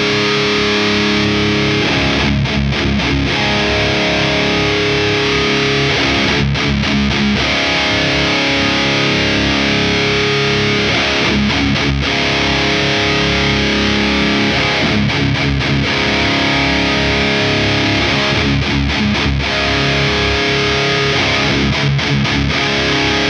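Heavy distorted electric guitar playing a dual rectifier tone through an Axe FX, with a thick low end. Dense chugging riffs run loud and continuous, cut by short rhythmic stops every few seconds.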